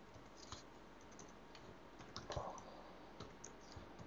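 Someone typing a file name on a computer keyboard, with scattered soft key clicks in short irregular bursts, faint and close in a quiet room, with no talk.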